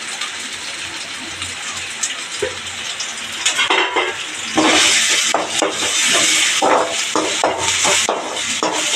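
Curry leaves sizzle in a pan of oil for egg curry, a steady close crackle that swells louder midway, with metal clinks of a spoon stirring against the pan throughout.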